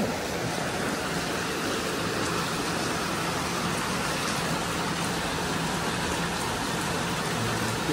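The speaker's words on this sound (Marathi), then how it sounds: "इकडं मस्तपैकी रिमझिम पाऊस चालू आहे बघू शकता" Steady light drizzle falls near a hillside monastery at Khopoli, a dense, even hiss of rain holding at the same level throughout with no voices.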